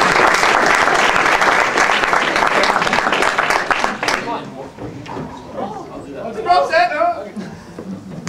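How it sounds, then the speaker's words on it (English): Talent show audience at a college event applauds in a loud, sustained round of clapping for about four seconds, then it tapers off into scattered claps and chatter with a voice speaking. "Let's give him a round of applause for freshman RTIS,"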